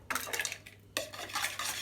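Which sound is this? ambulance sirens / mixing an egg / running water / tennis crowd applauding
mixing an egg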